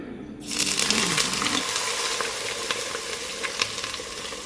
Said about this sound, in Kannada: ಆಯಿಲ್ ಮತ್ತು ತುಪ್ಪ ಬಿಸಿ ಆದ ತಕ್ಷಣವೇ ಹಿಟ್ಟನ್ನು ಇದಕ್ಕೆ ಹಾಕಬೇಕು ನೋಡಿ ಈಗ ಆಯಿಲೆಲ್ಲ ಬಿಸಿಯಾಗಿ ಬಂದಿದೆ